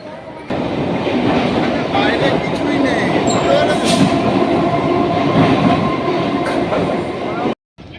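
A loud train rumbles and rattles steadily into Kolkata station, wheels clattering continuously before cutting off abruptly near the end.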